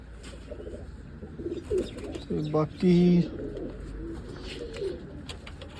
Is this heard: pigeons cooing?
yes